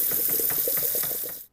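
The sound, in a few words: tap water spraying over cooked noodles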